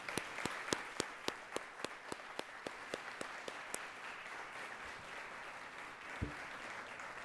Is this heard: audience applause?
yes